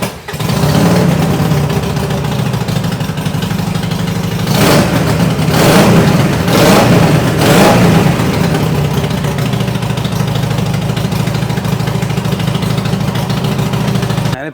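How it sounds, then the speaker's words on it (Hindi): Superbike with its stock exhaust, revved while parked: a loud, steady engine drone throughout, with three sharp throttle blips in quick succession partway through before it settles back to a constant idle. "एक बार अब हम इसकी आवाज़ सुनते हैं, स्टॉक एग्जॉस्ट की आवाज़ सुनना।"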